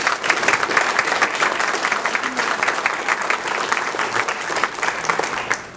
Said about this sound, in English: Let's give all these athletes a round.